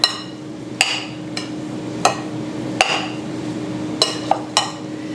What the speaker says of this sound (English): And so we're going to mix this together.